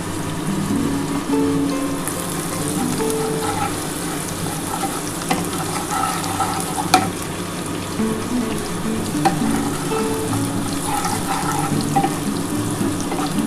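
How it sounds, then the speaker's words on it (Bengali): Onions frying in a pan for a mustard-paste fish curry, a continuous close hissing sizzle with occasional light scrapes of stirring, steady and fairly loud with no talk. "পেঁয়াজটা একটুখানি ভেজে নিই"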